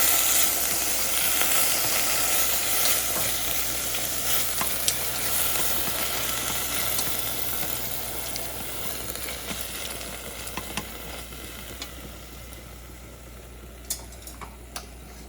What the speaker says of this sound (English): I'm gonna just quickly fry these a bit